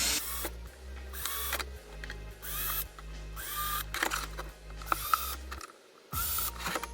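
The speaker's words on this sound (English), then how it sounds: "Next step is to pre-drill the 3 holes in the bottom of the drawer side." A drill pre-drills holes in the bottom of a wooden drawer side for a camper van build, with a series of short whirring bursts separated by brief pauses over a low steady hum.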